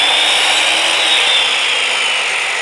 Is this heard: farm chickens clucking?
no